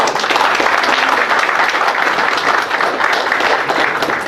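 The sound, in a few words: round of applause for the couple at reception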